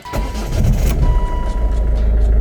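A Volvo V50 turbo engine cranks and catches, settling into a loud, close, rumbling idle that holds steady for a couple of seconds.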